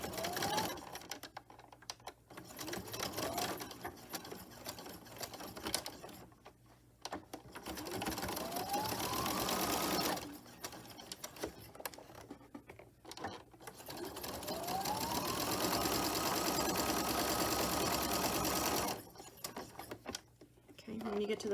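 A sewing machine straight-stitches a muslin herb sachet in several long, buzzing runs separated by short pauses, with a voice talking over parts of it.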